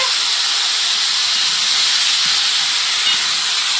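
Potatoes dropped into hot oil give a loud, steady, close hiss of sizzling that holds evenly throughout with no talk over it.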